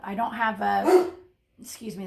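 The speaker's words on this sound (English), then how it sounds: "that's my dog barking." A pet dog barks at home, a single sharp bark rising briefly between stretches of someone talking close to the microphone.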